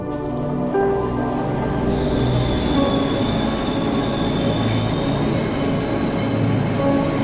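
Train rolling along the track in the horror video game Cry of Fear, a loud continuous rumble with metallic wheel squeal and grinding tones, steady and close throughout with no voices.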